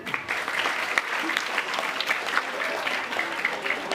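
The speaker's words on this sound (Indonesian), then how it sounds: "tepuk tangan Bu Hanif." Audience applause at an Isra Mi'raj religious celebration, a steady sustained clapping from a crowd lasting the full few seconds, fairly even in loudness with scattered sharper claps.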